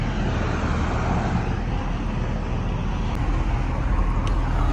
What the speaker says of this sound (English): Oh, we got cars coming.